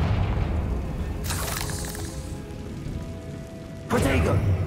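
A Confringo blasting curse goes off in the game Hogwarts Legacy, producing two broad, noisy bursts of fiery crackle, the second louder and closer, over a low ambient rumble and game sounds.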